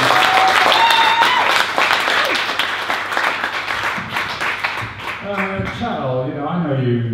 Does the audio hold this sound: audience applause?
yes